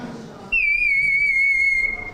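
A bright, high warbling whistle from a water-filled clay bird whistle toy sings steadily for over a second, close and clear, like a bird trilling.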